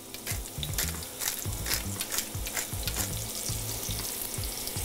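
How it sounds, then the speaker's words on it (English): Steady, crackling sizzle of hot oil in a pan, close and fairly loud, with occasional clinks and stirring scrapes throughout. "Nice little sizzle happening"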